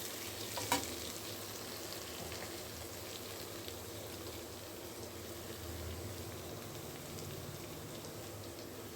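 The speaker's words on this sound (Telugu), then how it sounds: "కొంచెం పొటాటోస్ అనేవి వేగినాయి కదా" Potatoes with two spoons of chili powder frying dry in a pan, a soft, steady sizzle and crackle throughout, fairly quiet with no talking.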